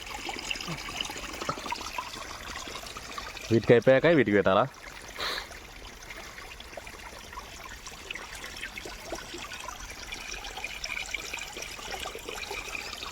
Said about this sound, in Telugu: సో నీళ్ళు అయితే పోతా ఉన్నాయి